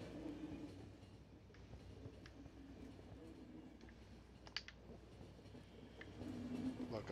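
A train rumbling along in the video game The Final Station, a low continuous rolling drone with occasional metallic clicks and a brief squeal, fairly faint and steady, swelling slightly toward the end.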